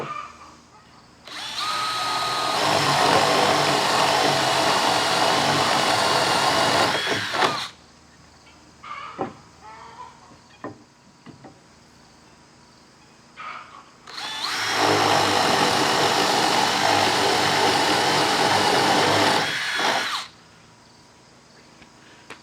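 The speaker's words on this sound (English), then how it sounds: "got our holes drilled" A power drill with a 5/8-inch spade bit bores loudly through wood in two long, steady bursts, with quieter clicks and handling noises in the pause between them.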